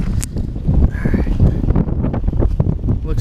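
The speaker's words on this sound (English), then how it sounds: "Man, that wind is blowing." Wind blows across a frozen flooded pond during ice fishing, a steady, moderately loud rushing gust over the open ice with faint fluttering, no talk heard.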